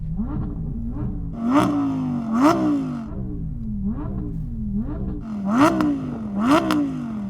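A naturally aspirated Lamborghini Huracán Performante engine blips repeatedly, sharp rising revs in quick bursts with short pauses between, loud and close with crackling overrun.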